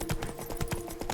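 Horse hooves in The Witcher 3: Blood and Wine, a short run of even, close hoofbeats at a moderate trotting pace over a steady background hum.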